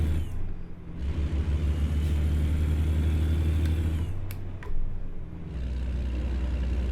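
A Kenworth K100E truck in American Truck Simulator hauling lumber, its engine droning low and steady, with revs dropping and surging through fumbled gear shifts and a brief hiss midway.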